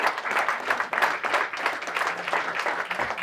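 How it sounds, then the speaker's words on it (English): Audience applause at a soccer club's uniform and gear unveiling, steady clapping from a crowd sustained for a few seconds. "You guys will give him a round of applause."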